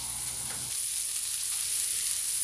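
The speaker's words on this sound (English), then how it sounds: "I'm going to take the spare ribs and I'm going to put them in the bottom of the pan first" Spare ribs sizzling in the bottom of a pan, a steady bright hiss of frying fat that holds even and close throughout, with a faint stir or scrape near the start.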